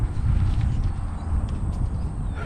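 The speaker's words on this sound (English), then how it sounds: "There's 2 horses in there, just they're gonna move." Two horses move about on a New South Wales horse farm, faint hoof clops under a heavy, steady rumble of background noise.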